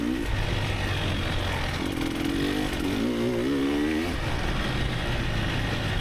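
A dirt bike engine revving hard during a race in Muskegon, ridden on a flat tire: a loud, steady buzzing drone with rising and falling pitch through gear changes, close up and continuous.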